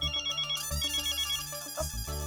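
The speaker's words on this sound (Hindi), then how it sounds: "ये फोन भी ना खाने के वक्त ही आता है" A mobile phone ringtone plays a steady, bright melodic loop in a home during a meal, fairly loud and close with no talking over it.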